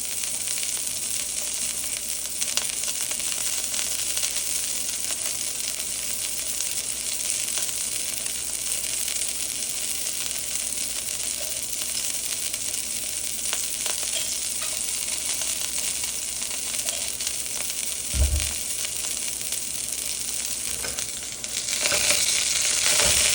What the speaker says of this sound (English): A nice sear on this steak